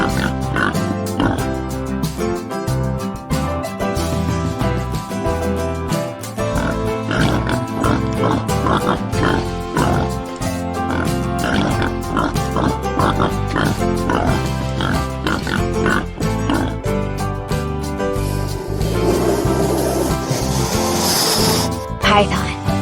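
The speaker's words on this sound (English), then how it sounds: "Wild boar looking for food." A wild boar grunts and snorts repeatedly while rooting for food, heard loud and close over continuous background music, with a hissing sound near the end.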